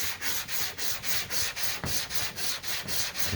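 Bondo body filler on a car body line sanded by hand, a loud close rasping scrub in a steady back-and-forth rhythm of about three strokes per second with no talking.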